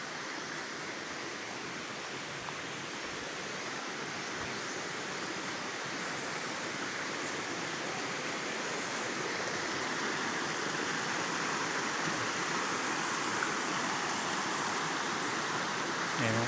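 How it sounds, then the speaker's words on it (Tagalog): A stream in Basilan flows over large rocks, making a steady, broadband rush of water close by that stays constant throughout, with no clear talking. "Sapa na to, sapa."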